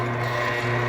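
An oscillating spindle sander chamfers the edge of a wooden marking gauge part, giving off a steady, close motor hum with a constant abrasive rub over a brief moment.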